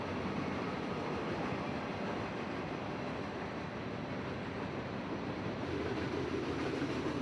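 A CSX freight train, the Fernandina Rocket, rolls past in a continuous broad rumble and roar of wheels and cars, steady and fairly loud throughout with no voices.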